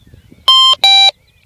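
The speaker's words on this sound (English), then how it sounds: "Switch it on, you hear the beep" A Nokta Fors Relic metal detector gives two loud, clean electronic beeps when switched on, each steady tone lasting about a quarter second with a short gap between, in an otherwise quiet field.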